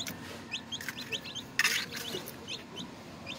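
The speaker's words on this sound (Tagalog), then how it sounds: "may lima na po akong sisiyo na naman" Chicks and hens cluck and peep softly in a quiet setting, short chirps repeating at irregular intervals with one brief louder burst.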